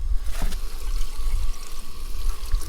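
Water runs steadily into a cooking pot at a campsite cookout, a continuous close trickle and pour with a brief splashier burst near the start and no talking.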